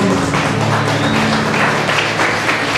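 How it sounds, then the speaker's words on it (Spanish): A church congregation applauding during a Wednesday worship service, with steady, loud, dense clapping that fills the whole stretch, and no voices above it. "Un fuerte aplauso al Rey de Dios."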